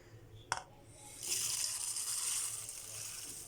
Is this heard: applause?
no